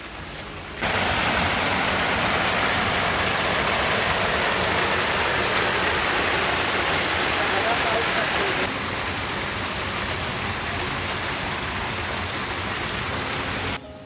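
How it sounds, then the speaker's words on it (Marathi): Heavy monsoon rain in the Konkan pours down steadily outside, a loud, dense, continuous hiss that carries on unbroken for the whole stretch and eases only slightly partway through. "जरा बाहेर पाऊस बघा सारखा पडतोच आल्यापासून सकाळपासून पाऊस पडते"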